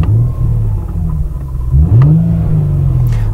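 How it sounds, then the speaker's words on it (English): A car engine in a home garage revs up from a rumbling idle, climbing sharply in a loud surge before settling into a higher steady drone, heard up close with no talking. "We'll just rev it a bit."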